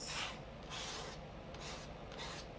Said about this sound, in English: See that it scrapes